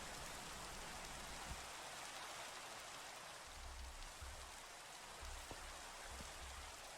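Steady hiss of rain in a video game, soft and continuous, with a few faint low thumps underneath.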